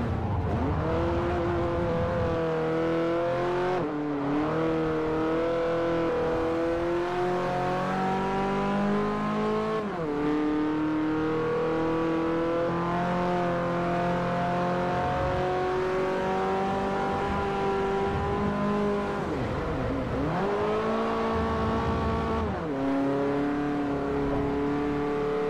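A small Citroen city car races in Forza Motorsport 4, its engine revving up through the gears again and again, the pitch climbing then dropping at each shift, loud and continuous with no talk.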